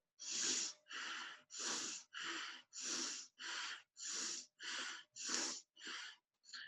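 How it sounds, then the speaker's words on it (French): Rapid, forceful nasal exhalations of yoga breath of fire, about eleven evenly spaced bursts over several seconds, close and fairly loud with no talking. "ils utilisent la respiration de feu. C'est la même chose, mais en plus rapide."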